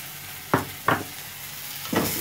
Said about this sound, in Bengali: এই টমেটোটাকে আমি সফট হওয়ার জন্য হালকা হাতে ভাজতে থাকি